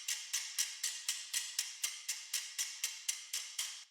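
A percussion loop from a dubstep build ticks out about a dozen bright, short, evenly spaced hits in a steady rhythm, quiet and alone.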